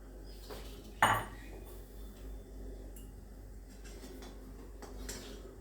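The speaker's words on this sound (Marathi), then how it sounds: "आता मी हे भांड्यात काढून घेते" A single sharp clank of a ladle against a metal pot as tomato soup is transferred to a bowl, followed by soft scraping and quiet kitchen clinks in a hushed room.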